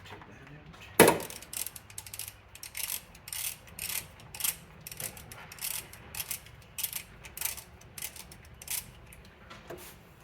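A ratchet loosens a 10 millimeter harness nut on a Toyota MR2 Spyder, its rapid clicking bursts coming close and fairly loud, repeating in quick uneven runs after one sharp knock.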